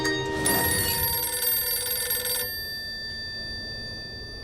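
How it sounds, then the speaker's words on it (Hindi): A telephone bell rings in a loud, steady electronic trill for about two seconds, then cuts off, leaving a faint tonal hum and quiet room tone. "सत्तो, सत्तो, न जाने कौन नालायक फोन कर करके मेरे अखबार का समय खराब कर रहा है।"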